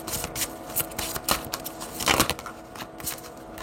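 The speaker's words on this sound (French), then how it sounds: "Mais je vais quand même mettre une autre carte là-dessus." Tarot-style cards are handled and laid down during a card reading, a series of quick, soft slaps and shuffling rustles at close range, irregular in rhythm and quiet.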